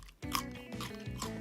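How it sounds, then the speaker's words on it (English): A raw carrot is bitten and chewed close up: a sharp crunch at the first bite, then repeated wet crunching chews in a steady rhythm, with no talking. "I don't know if you guys can hear the crunch"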